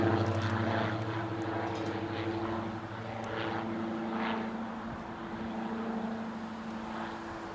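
A Eurowings airliner taxis at Newcastle International Airport, its engines producing a continuous low droning hum with steady tonal whine, heard from a moderate distance without any talk.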